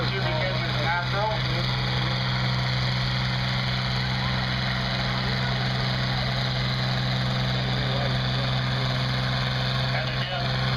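A John Deere 4020 tractor with a 404 cubic inch naturally aspirated engine runs at a steady idle at a threshermen's reunion show in Pontiac, Illinois, a continuous low throb with a voice talking over it.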